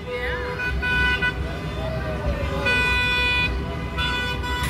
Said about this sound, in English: The people's cars are honking.